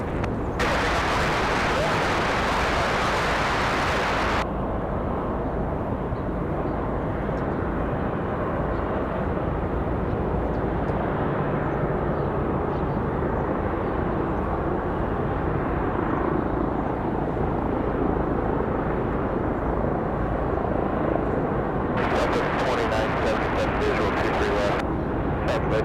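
An airliner departs runway 23 left at Raleigh-Durham International, producing a loud, sustained engine roar that fills the whole stretch, with voices talking over it.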